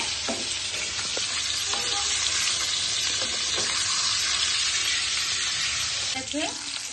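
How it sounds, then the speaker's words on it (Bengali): Rohu fish pieces fry lightly in hot oil with a loud, steady, continuous sizzle, marked by a few soft clinks of a utensil near the end. "দই রুই বানাতে গেলে হালকা ভাজতে হবে মাছটা হালকা করে ভেজে নেব।"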